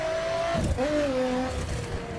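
Rear-engine, rear-wheel-drive car driving in The Crew racing game, a steady engine drone with a pitch that dips and then climbs again, playing continuously with no talk.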